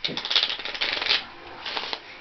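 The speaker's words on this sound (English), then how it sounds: "I'm just going to give the cards another shuffle" Playing cards are shuffled by hand up close in quick riffling bursts that patter and flutter, loud then softer, with no voices heard.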